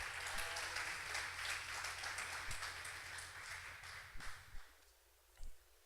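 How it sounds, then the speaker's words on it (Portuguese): A church congregation claps in praise, a broad wash of applause that gradually thins out, with a low hum and a few louder separate claps or knocks near the end. "Aplauda o Senhor."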